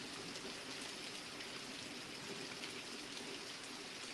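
Heavy rain pours in a steady, dense hiss with no letup, a thick wash of falling water during an intensifying rainstorm, with no voices.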